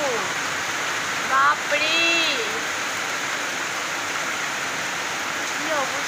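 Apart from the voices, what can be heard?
heavy rain falling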